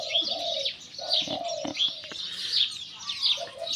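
Spotted dove coos in a series of soft, low calls over nearby bird chirps, with a few brief louder knocks, set in an outdoor bird-luring scene.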